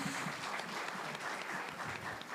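Applause from an audience at an international mediation conference in Turkey greets a professor coming onto the stage, a brief, steady, moderately distant patter of many hands.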